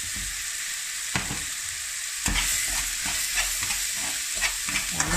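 Brown rice being stirred in a cocotte, with a steady sizzling fry throughout and repeated scraping strokes of the spoon against the pot, close and fairly loud, no talk.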